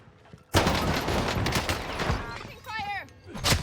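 Dense rapid gunfire erupts from the Call of Duty Warzone Pacific video game, including Caldera and an SMG MP-40, loud sustained bursts dominating after a sudden start, with a short voiced sound near the end.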